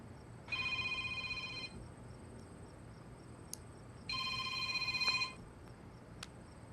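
A telephone rings in two clear bursts of electronic trilling, the first lasting about a second and the second following after a pause, loud and near in an otherwise quiet room.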